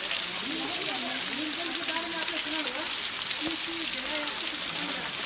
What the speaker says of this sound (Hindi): कोई बारिश नहीं हो रही है, ये वाटरफॉल है।